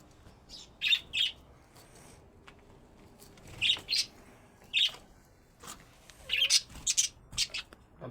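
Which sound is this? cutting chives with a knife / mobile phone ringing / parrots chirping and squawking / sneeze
parrots chirping and squawking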